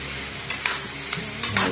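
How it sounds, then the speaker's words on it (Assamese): Bottle gourd vegetables sizzling in a frying pan, a steady soft crackle close up, broken by a few quick scraping stirs of a spoon against the pan. "ভালকৈ লৰাই দিব।"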